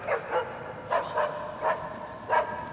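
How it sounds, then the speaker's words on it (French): Dogs in the video game Assassin's Creed Chronicles China bark in five short yapping bursts, spaced roughly evenly, moderately loud over a low ambient game background. "Des chiens, ils donnent ta position, c'est ça?"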